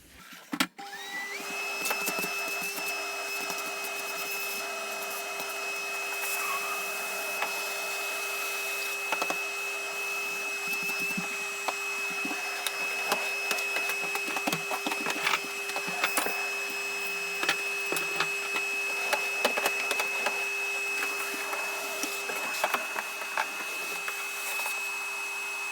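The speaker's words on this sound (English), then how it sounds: "That Hoover really doesn't sound healthy." A Hoover vacuum cleaner running steadily after drywall sanding, sounding unhealthy, with a strained high whine and rattling clicks over a constant motor drone.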